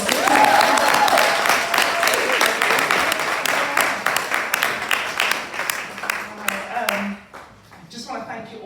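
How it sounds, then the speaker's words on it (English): An audience gives a long round of applause, dense at first and then thinning into scattered claps. It settles as a voice begins speaking near the end. "can we give her another round of applause?"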